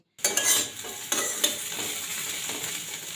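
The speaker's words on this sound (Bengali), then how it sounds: "আলু ভাজছি শুকনো লঙ্কা ফোড়ন দিয়ে" Potatoes fry in a pan with dried chili tempering: a bright, steady sizzle under a few sharp scrapes of a stirring utensil, close and fairly quiet.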